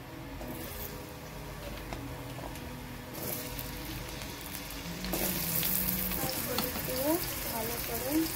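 Spiced ingredients with salt and turmeric fry in a pan for a shrimp curry, a moderate sizzle that grows louder midway with some stirring scrapes and faint background sounds.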